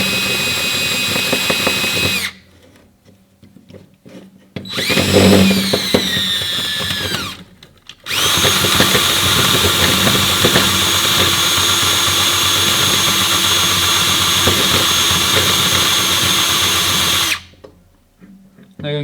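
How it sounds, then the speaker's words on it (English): A drill spinning a wire wheel to scrub dust off a part, whining loudly in long runs of steady buzzing grind broken by short pauses and a brief rising spin-up between bursts. "I'm going to chuck up my wire wheel, like that."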